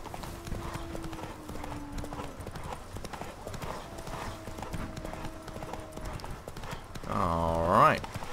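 Rhythmic hoofbeats clip-clop steadily as a horse moves along in the video game The Witcher 3: Wild Hunt, with a voice talking over them and a brief whinny near the end.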